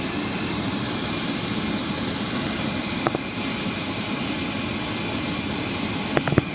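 A plane at Toledo airport gives off a steady, far-off jet engine roar that stays even throughout, with a few faint clicks and knocks close by and no talking.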